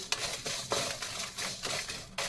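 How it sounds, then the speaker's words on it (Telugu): Dried red chillies and dried coconut are dry-roasted over a low flame, with a steady scraping and rattling in the pan and sharp clinks of the spoon at intervals, close and alone. "వీటిని మనము సన్న సెక మీద దూరగా వేయించుకోవాలి"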